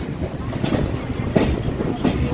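Kolkata's Chakrarail circular train runs alongside the Ganga in a brief stretch of steady carriage rumble mixed with gusty wind noise and a few louder knocks.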